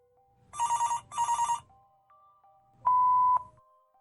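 A telephone rings unanswered, two bright double bursts close together, then a single longer electronic tone after a short pause, all with no voices.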